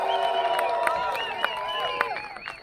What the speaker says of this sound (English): Give yourselves a giant hand.